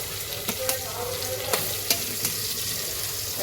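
Onion and chillies hit a hot pan with ginger-chilli paste, sizzling steadily while a spoon stirs through, knocking against the pan a few sharp times at irregular intervals.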